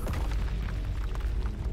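A Bombarda spell explodes in the video game Hogwarts Legacy, a dense, loud booming blast with heavy low rumble filling the whole short moment.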